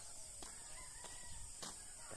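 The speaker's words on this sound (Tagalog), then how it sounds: "Ibon, manok." Rooster and other birds calling in a rural village in the Philippine countryside in early morning, faint repeated calls over a steady hiss of background noise, no talking.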